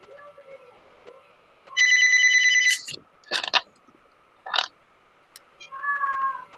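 A phone ringtone chimes in a steady tonal burst for about a second during an online academic lecture session, followed by a few short clicks and knocks and a fainter two-tone warble near the end.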